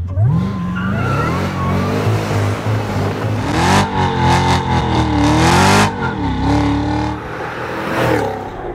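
2024 Cadillac CT5-V Blackwing sedan with a supercharged 6.2L V8, close and loud, revving and accelerating through rising and falling engine pitch, with brief tire squeal between shifts.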